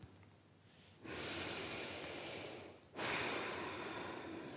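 Deep, full circular breaths are drawn in and let out, two long airy breaths close to the microphone with a short pause between them, alone with no talking.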